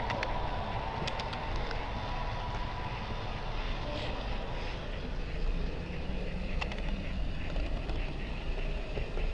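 A model train on a club layout rolls past with a continuous rumbling roar, faint metallic clicks and squeals rising here and there over the steady noise.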